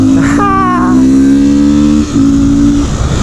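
A BMW R1200 motorcycle engine roars close by as it revs, climbing in pitch and then holding a loud, steady drone. There is a brief dip before it carries on.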